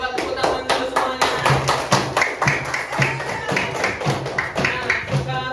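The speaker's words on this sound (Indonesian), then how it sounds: "Dan coba tepuk tangan dulu semuanya." A classroom of students clapping hands together in a steady, rhythmic pattern of sharp, evenly spaced claps, fairly close and bright, continuing throughout with some faint voices mixed in.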